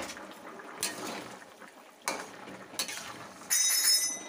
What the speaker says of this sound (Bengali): ঢাকনাটা খুলে দিলাম।